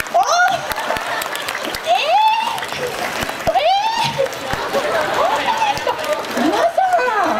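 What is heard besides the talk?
audience applause at a mascot stage show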